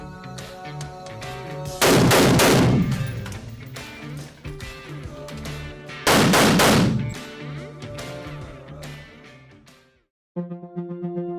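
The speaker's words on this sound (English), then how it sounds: "to have a 6-lane firing range downstairs, a shooting range," Gunfire at an indoor six-lane police shooting range, two loud, very close bursts of rapid shots with a long echoing decay, then a brief drop to silence and a quieter tonal sound.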